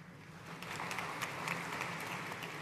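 Graduates' families clap at a university commencement ceremony, a modest, fairly distant round of applause that rises slightly and holds steady, with individual claps audible in the blend.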